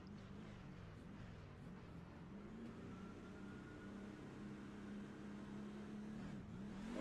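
A NASCAR truck idling and revving in its pit stall at Charlotte Motor Speedway in a racing sim game, a steady low engine drone with a slow rising pitch swell, close and continuous with no talk.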